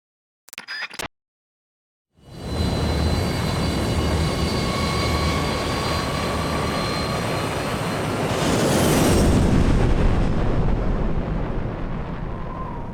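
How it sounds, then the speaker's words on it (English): A jet aircraft flying on one engine with its door open in Metal Gear Solid 3: after a brief clatter and a moment of silence, a loud, steady roaring rush sets in and swells midway. "Don't mind us flying with one jet engine."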